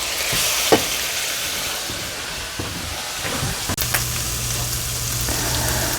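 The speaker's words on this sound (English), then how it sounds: "I'm trying to brown it in the pan right now" Ground beef browns in olive oil in a pan, giving a loud, even frying sizzle and crackle with occasional stirring knocks, then a steady low hum underneath in the last seconds.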